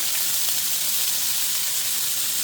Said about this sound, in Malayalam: ഉഴുന്നുപരിപ്പ് നന്നായിട്ട് മൂത്ത മണം വരുന്നുണ്ട്. അതിലോട്ട് നമ്മുടെ ചീരയില, അതായത് ബീട്രൂട്ടിൻ്റെ ഇല ഇട്ട് കൊടുക്കുവാണേ